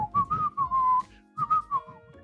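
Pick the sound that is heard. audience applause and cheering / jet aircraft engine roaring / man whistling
man whistling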